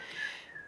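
A child whistles faintly through gaps from two newly lost front teeth, a thin breathy tone held briefly in the background of a craft tutorial, with no talk over it.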